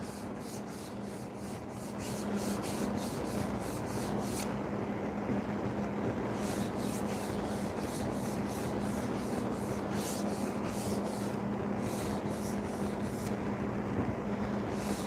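A sanding block wrapped in 150 grit sandpaper is rubbed along the rounded edge of a wooden cutting board in steady, rhythmic back-and-forth strokes. The scratching is close and even, with faint background hum.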